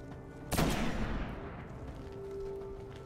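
A single loud, close sniper rifle shot in the video game Destiny cracks sharply and then trails off in a long, rumbling echo that fades over a couple of seconds.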